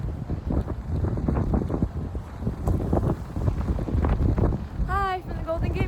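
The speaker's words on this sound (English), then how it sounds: "It's very windy, but it's beautiful out." Strong wind at the Golden Gate Bridge buffeting the microphone with a constant rumbling roar, gusting unevenly, with a brief high tonal sound near the end.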